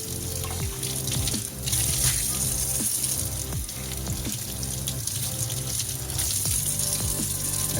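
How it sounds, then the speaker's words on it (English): A kitchen tap runs in a steady, close gush while a plate is rinsed under it in the sink, with faint clinks and splashes breaking the continuous flow. "it's time to rinse it off under the water."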